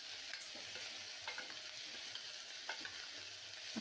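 Carrot, potato, onion and tomato frying in butter in a pan, a soft steady sizzle with occasional stirring clicks and scrapes, fairly quiet and close.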